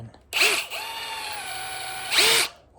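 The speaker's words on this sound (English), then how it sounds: "So anyway, it is the M18 Fuel Surge." A Milwaukee M18 Fuel Surge impact driver, reported to have stopped spinning properly, runs in a single close, loud burst of about two seconds. It gives a steady, high-pitched motor whine, with sharp surges as it starts and stops.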